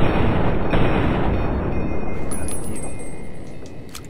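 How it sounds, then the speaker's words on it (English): Gunfire in Fallout: New Vegas sounds as dense, loud booming shots and bursts that roll together continuously. A few sharper high pings and clicks come through toward the end. "Now Eddie already started shooting, and now I'm shooting"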